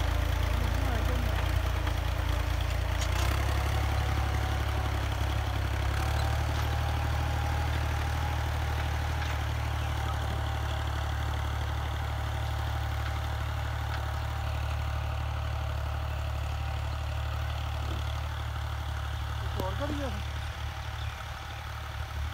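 Alghazi tractor engine idling with disc harrows fitted, a steady low diesel rumble that stays even throughout, close and loud, with a brief shift near the start.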